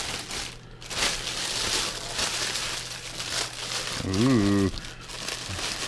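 A plastic bag crinkles and rustles continuously while a product is unboxed, with a brief tearing sound as the bag rips, and a short spoken exclamation is heard over the handling noise.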